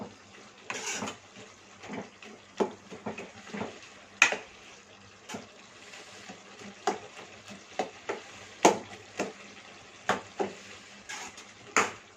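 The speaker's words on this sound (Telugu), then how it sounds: "ఇప్పుడు ఒకసారి కలిపేసుకుందాము. ఒక 2 మినిట్స్ పాటు ఇలా కలుపుతూ ఉండండి." Broad bean curry is stirred in a pan, with a utensil scraping and knocking against the metal in repeated irregular strokes over a faint sizzle, close and fairly clear.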